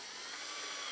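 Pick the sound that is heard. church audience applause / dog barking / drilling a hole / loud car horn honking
drilling a hole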